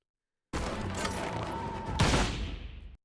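A bow spread shot in Monster Hunter Wilds lets loose a loud, dense burst of arrows. A second heavy impact follows partway through, and both ring out before cutting off abruptly.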